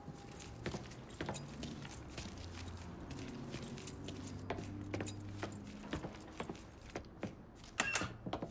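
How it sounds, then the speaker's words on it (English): Keys jangling as they are picked up in the video game Mafia III, a series of light metallic clinks and rattles over several seconds against a low ambient background. "Hey, man, grab those keys."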